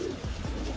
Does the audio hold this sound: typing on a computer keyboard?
no